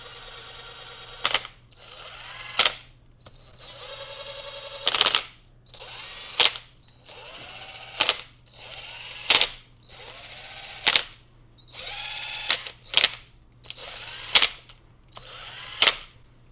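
A power tool drives down the cylinder bolts on a Honda 400ex ATV in about a dozen short, loud bursts of whirring and rattling, separated by brief pauses with a faint steady hum underneath.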